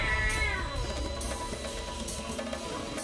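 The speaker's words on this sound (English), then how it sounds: "Don't mind him. It's a cat." A cat gives a drawn-out meow near the start, rising and then falling in pitch over a steady bed of background noise, with no talking.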